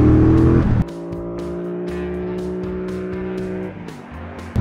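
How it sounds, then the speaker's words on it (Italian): A 2017 Triumph Bobber motorcycle engine with twin exhausts revs steadily, pitch climbing through a sustained pull in low gears, with a brief drop near the end as it changes gear. "vi faccio sentire la progressione del motore"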